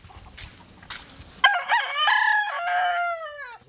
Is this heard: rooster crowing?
yes